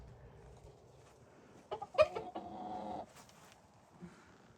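Chickens cluck and squawk in a brief burst in the middle, a fairly close flurry of sharp calls over quiet background rumble, with a faint cluck afterward.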